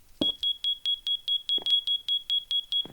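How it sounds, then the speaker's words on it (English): A high, piercing fire alarm in a Minecraft furniture mod beeps in a fast, steady rhythm, about four times a second, with a few soft thumps underneath. "it is this really, really annoying beeping sound"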